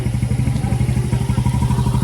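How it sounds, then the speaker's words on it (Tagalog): Close, loud idle of a payong-payong motorcycle taxi, a motorbike fitted with an umbrella-like canopy, its engine thumping in a fast, even beat. "Tinatawag tong payong-payong kasi dito typical na parang payong ang motor"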